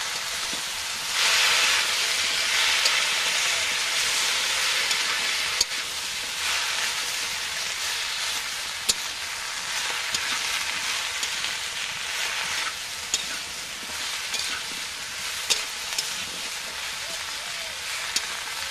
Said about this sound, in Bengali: এখানে পিপুল পাতা আর পেঁয়াজ ভেজে নিয়েছি, এখন সবজি দিয়ে দেবো।